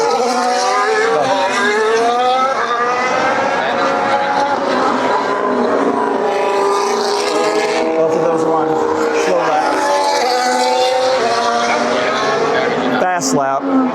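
A Formula 1 car accelerates hard on a fast lap at the Circuit of the Americas in Austin. Its loud, high-pitched engine whine climbs through rising sweeps and runs continuously, close and dominant.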